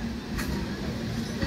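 A down local train moves along the tracks with a steady, continuous rumble, fairly even throughout with no voices.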